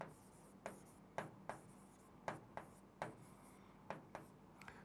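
Pen writing on paper while working a Class 10 maths probability example, a series of short scratchy strokes in an uneven rhythm, close and fairly quiet.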